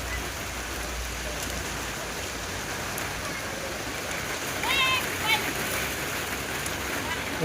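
Heavy rain drums steadily on a metal sheet roof, a dense continuous patter close overhead, with a brief voice heard faintly midway.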